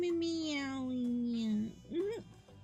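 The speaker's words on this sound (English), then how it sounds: "Okay, give me a quick meow." A cat gives one long, drawn-out meow, then a shorter rising meow, close and clear.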